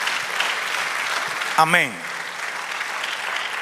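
A church congregation applauds steadily through a sermon, a dense, even wash of clapping that continues from start to end, briefly joined by a single voice calling out.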